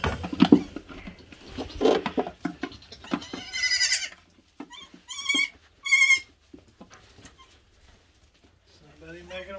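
Nigerian dwarf baby goats bleat in short, high, wavering cries, several separate calls close by with quiet gaps between them, alongside some brief noises from the goats.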